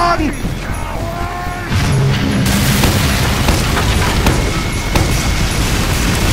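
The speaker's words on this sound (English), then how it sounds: "Cannon!" A cannon fires in Team Fortress 2 Mann vs. Machine mode, a loud booming blast followed by sustained rumbling battle noise, with faint voices underneath.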